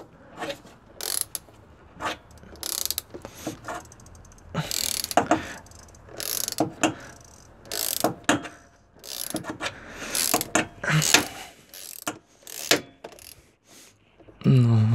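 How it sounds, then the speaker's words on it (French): A ratchet wrench loosens the oil drain plug on a Seat Leon 1M TDI 150 ARL diesel during an oil change. Close, crisp clicking comes in short bursts separated by pauses. "Et là, je vais pouvoir dévisser avec un simple cliquet."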